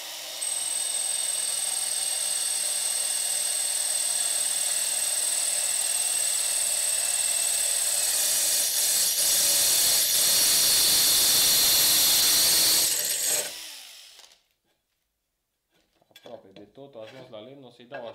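A loud, high-pitched drill whine as a glass drill bit grinds into stone, running steadily before cutting off abruptly, followed by a short clatter.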